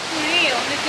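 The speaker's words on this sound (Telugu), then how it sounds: "ఈ వాటర్ ఫాల్స్ నేమ్ వచ్చేసి ఊరాకూరి." Urakuri waterfall in Kerala gives a steady, close rush of falling water, a brief broadband roar with a faint whistle-like tone in the middle.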